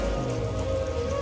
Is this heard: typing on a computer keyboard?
no